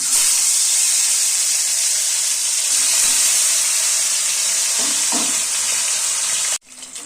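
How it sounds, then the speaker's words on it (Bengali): Tilapia fish coated in turmeric and salt frying in hot oil, a loud continuous sizzle and hiss with a few soft clinks partway through, ending in a sudden sharp drop near the close. "তেল গরম হয়ে গেছে, মাছটাকে হলুদ লবণ মাখিয়ে রেখেছি, আমি তেলে ছেড়ে দিচ্ছি।"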